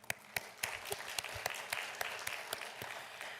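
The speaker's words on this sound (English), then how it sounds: "Give him a round of applause" Round of applause at a community town hall in Wichita for a city manager, a thin crowd clapping with distinct sharp claps standing out in a loose rhythm, fairly near and steady.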